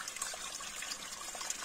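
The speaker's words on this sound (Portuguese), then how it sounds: "A gente tá vindo um pouquinho de água aqui." A small trickle of water runs steadily through a forest water line cleared of sand and leaves, a faint, continuous splashing hiss with no pauses.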